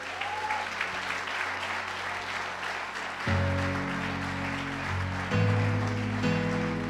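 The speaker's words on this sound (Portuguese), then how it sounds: "Só quem vai massacrar, aplauda ao Senhor aí" A church congregation at a Portuguese-language evangelical service claps steadily, a soft continuous patter of many hands beneath sustained organ or keyboard chords that swell partway through.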